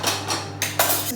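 Plating up a home-cooked meal of chicken, potatoes and green beans, with several quick ceramic and metal clinks of dishes and cutlery close by, a few sharp knocks in just over a second over a low steady hum.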